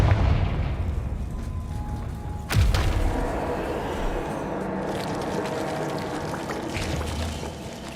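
Confringo blasting spell in Hogwarts Legacy, one sharp explosive crack and thud followed by a lingering rumbling wash of debris and ambience, no talking.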